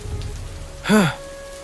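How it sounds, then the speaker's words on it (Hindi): Steady rain patters as a soft, constant wash through a scene in an animated Hindi story, broken midway by a brief, louder rising-and-falling tonal swoop. "बारिश की बूंदें उसे परेशान कर रही थी"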